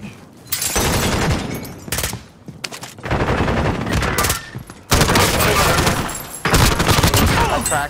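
Automatic gunfire in a Call of Duty: Warzone match, loud and close, comes in several long sustained bursts separated by short pauses, with some player talk mixed in.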